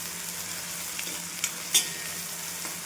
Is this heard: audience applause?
no